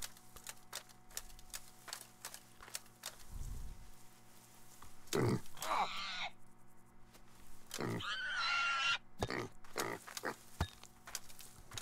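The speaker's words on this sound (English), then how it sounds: "Pig." In the survival game Rising World, a pig gives two short, close grunting oinks amid the game's ambient clicks and background noise.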